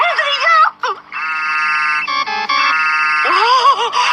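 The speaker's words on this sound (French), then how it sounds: "c'est Adrien qui m'appelle sur mon portable" A mobile phone ringtone plays a loud, steady electronic melody in a cartoon scene, with animated voices talking before and after it.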